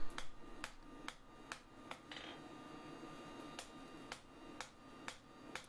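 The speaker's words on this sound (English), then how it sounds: "moving my hammer to one edge at a time" Metal hammer blows ring out on a rebar dagger being forged, about a dozen sharp, fairly regular strikes spaced roughly half a second apart, close and clear over a low background hum.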